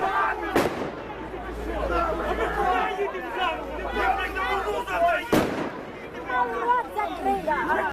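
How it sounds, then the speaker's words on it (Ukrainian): Two sharp firecracker bangs, one early and one about five seconds in, cut through steady loud chatter and shouting from protesters outside a police station gate. "почали кидати димові шашки, петарди та кричати"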